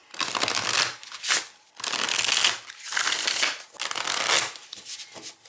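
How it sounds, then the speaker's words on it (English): Several rapid bursts of tarot card shuffling, each a crisp riffling rush followed by brief pauses, close and fairly loud with no talking. "I'm going to give each of the decks a little shuffle"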